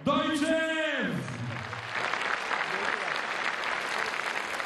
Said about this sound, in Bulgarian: Уважаеми дами и господа, моля за вашите аплодисменти за Георги Дойчев!